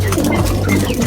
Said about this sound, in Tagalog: yung ating mga ibon na to.